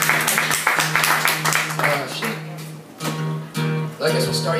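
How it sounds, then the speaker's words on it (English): A crowd claps for a band on stage at a live show, steady applause mixed with cheering, a sustained hum from the stage sound system and a few voices over it. "clap everybody that's up here."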